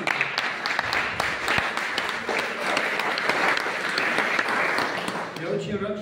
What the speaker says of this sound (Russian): Давайте аплодируем нашему великолепному выступающему